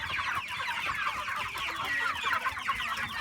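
Several broiler chickens cluck and chatter continuously nearby, a busy overlapping flock sound with no voices.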